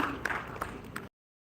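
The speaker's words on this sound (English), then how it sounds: "You must clap for him" An audience at an international conference on smart devices gives a short burst of scattered clapping for a guest, which cuts off abruptly after about a second.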